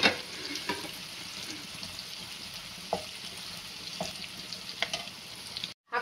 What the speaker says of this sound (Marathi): आता हा कांदा याच्यामध्ये घालून चांगला फ्राय करून घ्यायचा आहे.